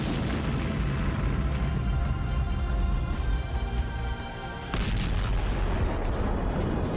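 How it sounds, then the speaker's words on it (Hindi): Heavy, sustained rumbling blasts with crackling bursts from tank shells cooking off in a burning tank during the Russia-Ukraine war, loud and continuous, briefly dipping before another roaring surge of explosive noise. "अंदर लगी आग ने टैंक में रखे गोलों को भी एक्टिव कर दिया और फिर इसमें ऐसा धमाका हुआ।"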